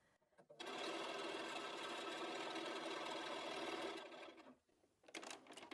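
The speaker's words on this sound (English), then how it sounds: "we're going to do is sew 1/4 of an inch all the way around the outside" A sewing machine stitches a quarter-inch seam around the outside of a friendship star quilt block. It revs up and runs steadily for about three seconds, slows, and stops, then a few short bursts follow.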